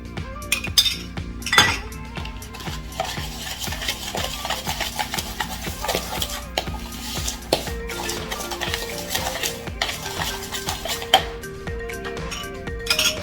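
A spoon clinks and scrapes steadily against a container while mixing sugar with coconut oil, giving a quick, repeated rhythm of close, bright taps and stirs throughout.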